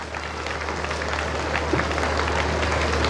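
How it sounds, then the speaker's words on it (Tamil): Students at a school annual day celebration applauding their parents, a steady broadband wash of crowd clapping that fills the hall throughout, dense and sustained without pauses. "மாணவர்கள் அனைவரும் உங்கள் பெற்றோருக்கு ஒரு தடவை பாராட்டுக்களை தெரிவிக்கும் மாதிரி ஒரு கைத்தட்டுக்களை கொடுக்க பார்ப்போம்."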